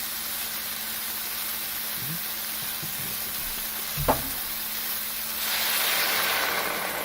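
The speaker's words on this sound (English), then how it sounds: "we'd even go around with the spatula, stir this stuff around, and scrape off all the tomato bits" Spatula stirring through a soup pot and scraping up tomato bits, a steady sizzle and hiss with a few soft scrapes and one sharp knock against the pot, then the sizzle swells louder.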